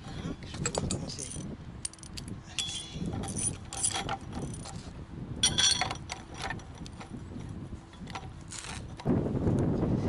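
A hand press forces a bushing out of a front suspension arm from a Citroën Traction 11B, giving irregular close metallic clicks, creaks and clanks of tools and fittings with brief pauses, no voices.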